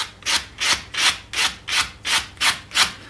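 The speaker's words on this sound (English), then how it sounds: "These are 220 grit sanding sponges from the beauty store." Rhythmic back-and-forth rubbing of a 220 grit sanding sponge on wood, about eight even strokes in three seconds, close and clear with no talking.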